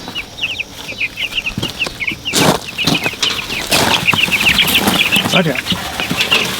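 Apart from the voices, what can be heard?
chickens clucking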